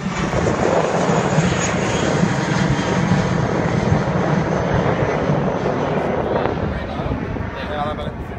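An aircraft roars low overhead while a boat sits anchored at the end of a runway, a loud continuous engine rumble filling the whole stretch as people talk underneath.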